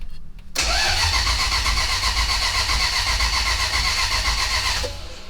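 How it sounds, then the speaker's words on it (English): A Toyota pickup's swapped 1UZ V8 cranks over on the starter for about four seconds, a loud, close, steady rhythmic churning that begins abruptly and cuts off without catching. "just cranking on it, see if it sets a bunch of codes or not"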